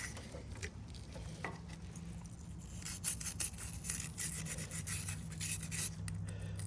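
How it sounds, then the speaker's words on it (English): Scraping the sidewalls of a carburetor float bowl from a Simpson 3400 PSI pressure washer gives a steady, close rasping and rubbing with uneven strokes, heard alone with no talk. "I'm just gonna scrape all the sidewalls here. Get it nice and clean."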